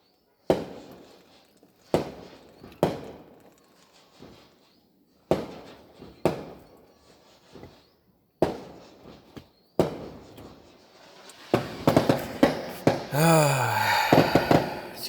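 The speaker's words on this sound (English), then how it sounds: "These fireworks, they're right next to me." Fireworks going off close by, a string of sharp, loud bangs at irregular intervals, each ringing out with a trailing echo, building into a dense crackling barrage with a whistling rocket near the end.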